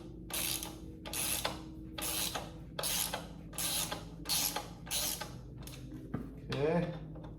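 A ratchet wrench tightening the mounting bolts of a luggage rack on a 2024 Triumph Scrambler 400X: about eight regular, close bursts of rapid clicking, followed by a brief voice.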